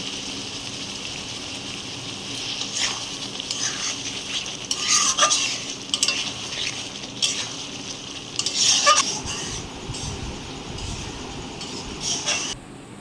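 Egg curry masala with salt is stirred and fried in a pan, loud close sizzling broken by repeated scraping stirs of the spoon.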